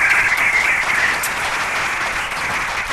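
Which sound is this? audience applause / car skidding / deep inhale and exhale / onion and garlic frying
audience applause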